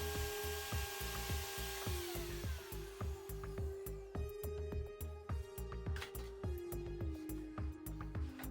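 A Vevor 1100W band saw runs with a steady tonal hum while its blade cuts through a workpiece, rhythmic rasping pulses repeating close and loud throughout.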